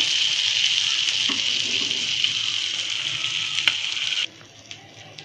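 Tuna (kupa) fish fries in a pan over medium gas, giving a steady, loud hiss and crackle up close. The sizzle cuts off suddenly near the end, leaving a few faint pops.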